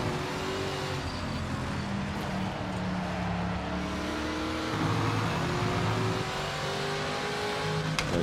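Race car engines rev continuously in Project Motor Racing, with Porsches in the field, a steady loud drone of several cars whose pitch climbs and drops as they accelerate and shift, with no talk over it.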